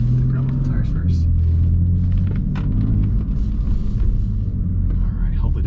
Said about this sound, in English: Oh, spinning into the gravel.